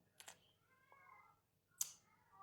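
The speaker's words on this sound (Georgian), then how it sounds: "გესმით ხო კატა როგორ კნავის უძახის თავის მეორე ნახევარს" A cat meows in drawn-out, fairly quiet calls to its mate, with two sharp noisy bursts around them in an otherwise still setting.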